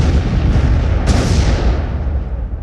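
Heavy naval guns of the cruiser Emden firing a broadside in a video game, one loud booming blast with a sharp crack near the middle over a rumbling background, then a long fading roar.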